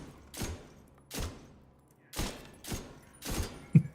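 Five separate, evenly spaced shots from a Negev machine gun in a video game, each a sharp close blast with a short decaying tail, spaced by pauses, with a faint thud at the end.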